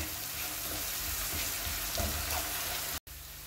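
Onions with a little cinnamon and salt frying steadily in a pan for a traditional Algerian dolma dish, a continuous close sizzle heard alone with no talking, briefly cutting out near the end.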